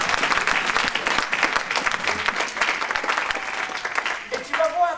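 Congregation applauding in church, dense steady clapping filling the space throughout with crowd murmur mixed in, loud and close, a brief voice or tone near the end.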